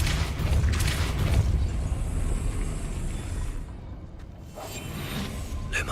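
A Depulso spell is cast in Hogwarts Legacy, producing a loud, heavy rumbling boom and whoosh that fills the space, then thins out briefly before the ambient rumble returns.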